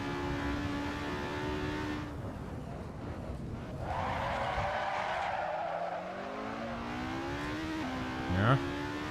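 Race car tires slide and squeal around the Nürburgring in a racing video game, a sustained screech rising over the engine's steady drone before the engine note climbs again, with a brief sharp blip near the end.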